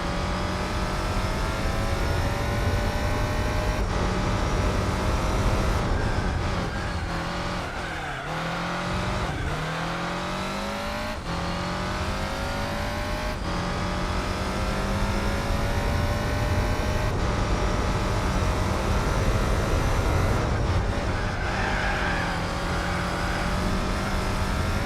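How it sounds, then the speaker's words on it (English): Rally car engine in the racing game Gran Turismo 4, a loud, continuous high-revving roar rising and falling through gear changes, with occasional tire squeal, no voices. "Why not the old classic sleeker rally car? Oh, but that's a nice engine sound."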